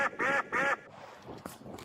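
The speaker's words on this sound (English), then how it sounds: "God, I love the quacks." A duck quacks twice, loud and close, in two harsh nasal bursts, and fainter, softer quacks and rustling sounds follow.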